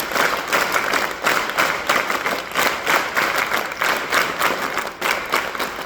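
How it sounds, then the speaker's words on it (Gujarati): An audience at a school farewell programme for class 10 and 12 students gives sustained, dense applause with pulsing waves of clapping throughout. "આપણે જોરદાર તાળીઓથી વધાવીએ"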